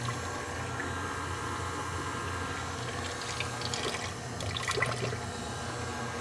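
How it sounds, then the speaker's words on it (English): Tap water runs from a kitchen faucet into cookie dough as sugar cookies are made, a soft, continuous trickle with a few brighter splashy bursts near the end, fairly quiet with no talking. "I'm just using tap water."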